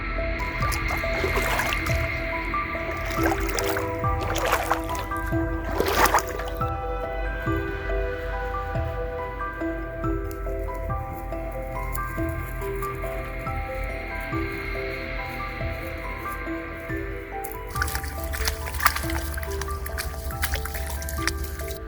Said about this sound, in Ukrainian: річка вийшла з берегів. Вода прибуває.